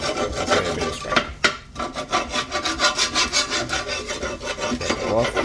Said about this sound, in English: Scrape it off.